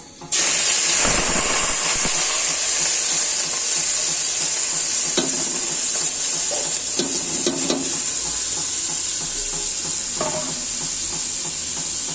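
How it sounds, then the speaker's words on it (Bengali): Red lentils (masoor dal) tipped into a pan of fried cumin seeds raise a loud, steady sizzling hiss. Scraping strokes of stirring recur throughout, with no talking. "আমার জিরাটা ভাজা হয়ে গিয়েছে ডালটা অ্যাড করে দিচ্ছি"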